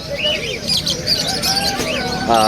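A yellow face opaline budgerigar chirps and warbles amid many birds at a busy weekend pet market, with overlapping tweets and squawks close by and murmuring voices in the background.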